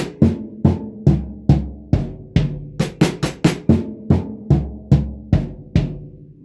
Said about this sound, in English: All the ones on the snare, everything that happens on a 2 beat is on the high tom, then my mid tom, then my low.